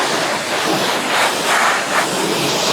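A pressure washer nozzle sprays a car during a mobile detailing contact wash, giving a loud, steady, hissing rush of water that holds without pause throughout.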